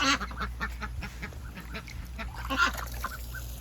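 Young ducks nearing adult size quack in a quick, overlapping chatter at close range, moderately soft, with splashy background noise.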